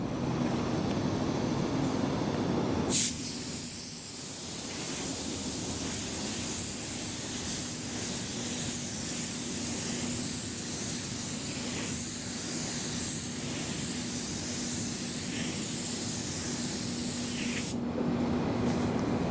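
Automotive spray gun laying high-solids European-style clear coat on a truck in a paint booth: a loud, steady, close hiss running nearly unbroken for about fifteen seconds, with a shorter burst before it.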